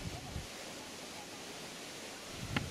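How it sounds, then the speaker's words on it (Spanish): The Ungaresero waterfalls near Lake Natron roar as a steady, dense wash of falling water, constant and fairly distant, with a couple of faint knocks near the start and end. "Son las cascadas Ungaresero."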